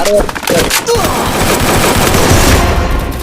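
Rapid automatic gunfire bursts in a multiplayer shooter video game, loud and dense, with excited voices talking over the shots.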